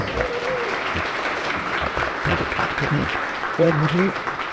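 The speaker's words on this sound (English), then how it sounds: "Let's give him a round of applause." Attendees at a community roundtable event clap in a steady round of applause, with a couple of voices speaking over it near the end.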